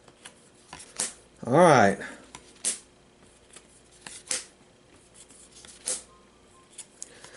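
A Marvel Legendary card deck is shuffled in one quick, soft riffle burst amid quiet handling clicks, with a person briefly speaking.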